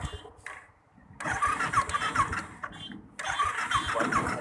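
A motorcycle engine cranks on its self-starter and catches twice in a row, each start rising into a rough, close mid-pitched idle.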